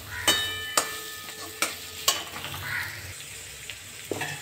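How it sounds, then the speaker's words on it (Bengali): Onion fries in a pan for a prawn-and-onion dish, a soft continuous sizzle punctuated by several sharp metallic clinks of a spatula scraping and tapping the pan, heard up close. "পেঁয়াজটা পুরো লাল লাল করব না, আধ ভাজাই করব।"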